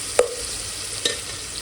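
Onion browning in a pan for vegetable pulao: an even, close frying hiss broken by two sharp clinks of a spoon against the pan.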